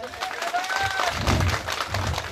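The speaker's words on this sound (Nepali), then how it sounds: "हामी सबै दिदीबहिनी तथा दाजुभाइ अथवा क्लबहरूले सबैले हातेमालो गरेर एकचोटि ताली दिउँ हाम्रो कलाकार" Applause from a community gathering in Gorkha for performing artists, a soft, diffuse patter of clapping from a crowd, with a voice talking over it at the start.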